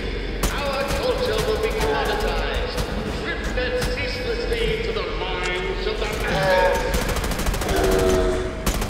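Gunfire from a weapon in the VR game The American Dream rings out in rapid, repeated shots alongside loud, continuous excited talk from a player.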